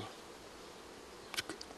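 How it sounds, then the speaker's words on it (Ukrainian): Bees buzz steadily in flight, a soft continuous drone, with a few sharper close passes near the end. "Бджоли літають, всі в мене живуть"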